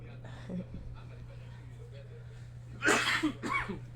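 A person in a home setting lets out two sharp, close coughs in quick succession, loud against a quiet room with faint murmuring and a steady low electrical hum underneath.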